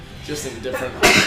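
A single sharp sneeze bursts out near the end, loud and close, right after someone talking in a sports recap show.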